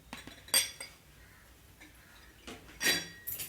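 A metal spoon clinks and scrapes in a pan while ragi vermicelli is stirred with sugar and cardamom powder: two sharp, bright bursts stand out among quieter taps, close by, with no one talking.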